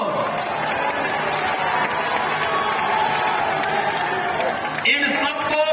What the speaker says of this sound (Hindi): देख लिए? जोरदार ताली तो बजा दो।